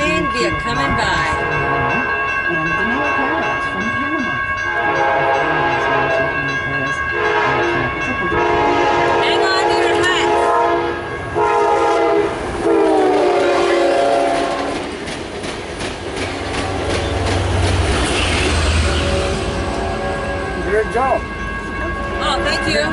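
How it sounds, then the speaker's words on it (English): A train rumbles past with rhythmic clatter of wheels and sustained horn blasts, loud and close, with voices talking over it. "The train's coming by."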